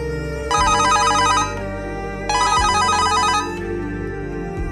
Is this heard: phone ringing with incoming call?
yes